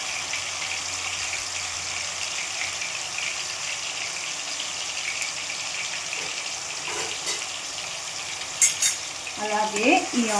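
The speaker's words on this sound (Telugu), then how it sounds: "అలాగే ఈ ఆనియన్ లైట్ బ్రౌన్ కలర్ వచ్చేంత వరకు వేయించుకోవాలి." Onion paste frying in a pan for an Andhra fish pulusu, a steady soft sizzle with occasional stirring scrapes, and a brief burst of tapping near the end.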